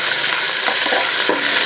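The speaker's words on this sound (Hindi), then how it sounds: "2 टीस्पून इसके अंदर लहसुन अदरक शामिल किया है" Garlic and ginger paste sizzles and fries steadily in hot oil, a loud continuous hiss with a few soft stirring scrapes.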